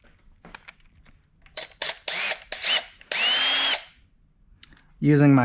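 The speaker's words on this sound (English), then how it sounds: "I'm just going to have to drill a hole." A power drill whirs in several short bursts, then one longer sustained run, loud and close, drilling a hole to remove a snap ring from a Honda S2000 clutch delay valve, with clicks and handling noise between.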